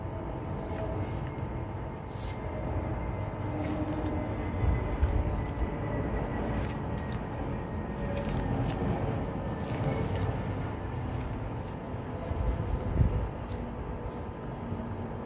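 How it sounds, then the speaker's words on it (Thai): Aircraft rumble near an airport beside a home forms a broad, steady roar that swells and fades over about fifteen seconds, with scattered clicks on top and no clear speech. "บ้านเราจะอยู่ใกล้กับสนามบิน มันก็เลยจะมีเสียงเครื่องบินขึ้นลงบ้าง"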